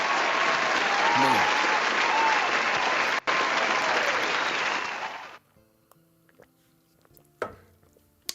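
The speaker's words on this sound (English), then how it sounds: "let me play a cheer" Cheering crowd sound effect played during a live stream, a dense burst of applause and cheers lasting about five seconds before cutting off abruptly, followed by faint clicks and a short spoken word.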